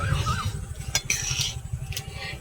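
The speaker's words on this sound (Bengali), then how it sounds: "ওটা না ঘেঁটে দিলে ওরকমই হয়ে থাকবে, ওই জন্য আমি ঘেঁটে দিচ্ছি" A spoon stirs fried pumpkin in a pan for Bengali pumpkin halwa, scraping and clinking against the metal in a steady close-up rhythm, with a low sizzle underneath.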